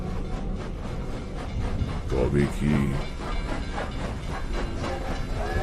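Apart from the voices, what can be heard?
train departing sound effect in audio drama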